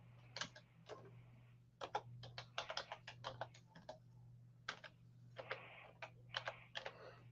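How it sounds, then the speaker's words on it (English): Someone types on a computer keyboard in irregular bursts of close, crisp keystrokes separated by short pauses, over a steady low electrical hum, with no voices. "I'm typing to Miss Sweet Campbell Judy."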